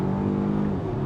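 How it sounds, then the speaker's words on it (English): A 2022 Volvo XC90 Recharge extended-range plug-in hybrid in sport mode pulls away hard from a stoplight, its engine giving a brief, steady hum. "We got to get away from a stoplight in a hurry. So here we go. We got it in sport mode. Just normal acceleration"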